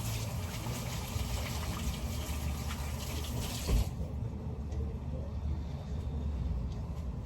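Tap water runs steadily into a kitchen sink for handwashing, a continuous splashing rush that changes character midway as the flow shifts, close and moderately loud without talk.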